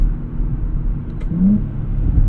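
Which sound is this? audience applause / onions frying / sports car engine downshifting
sports car engine downshifting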